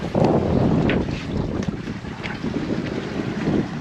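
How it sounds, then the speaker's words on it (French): Wind rising on a sailboat sailing toward Vulcano, a loud, continuous gusty rush buffeting the microphone, mixed with water and hull noise and a few faint higher clinks, without any voices. "Ça monte un petit peu le vent."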